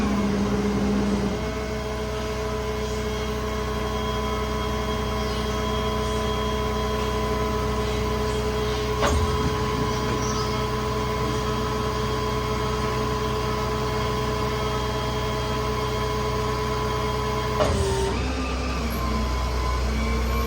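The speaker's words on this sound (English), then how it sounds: "We'll extend the boom all the way out." Hydraulic boom extending on the 10k crane of a 2019 Kenworth T270 service truck with a Summit service bed: a steady, close hydraulic whine with a low engine hum throughout, ending in a brief clunk and a change in pitch.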